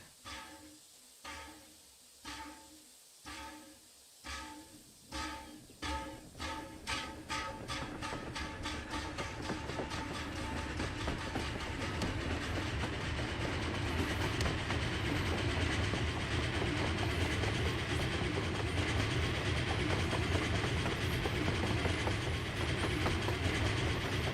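A train in the Wild West battle royale game Grit rolls along the tracks, starting with evenly spaced clickety-clack beats that speed up and blur into a loud, steady rumbling roar with hiss.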